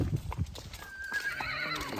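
A mare whinnies in a high, wavering neigh, preceded by a few low thumps, fairly close and clear.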